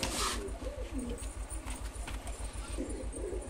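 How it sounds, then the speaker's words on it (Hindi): A large, well-bred pigeon coos softly nearby, low repeated throaty pulses in a steady rhythm, faint, with some background voices. "बहुत अच्छी नस्ल का, बहुत बड़ा कबूतर है।"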